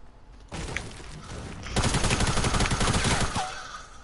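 Fortnite gunfire: a burst of rapid automatic shots rattles out loud and dense after a short lead-in, then cuts off, with no voices over it.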